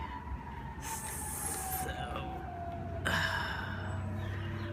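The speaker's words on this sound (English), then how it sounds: "the siren's going off" A distant siren wails faintly over steady background hum near a downtown area, its pitch gliding slowly, with a brighter tone rising partway through.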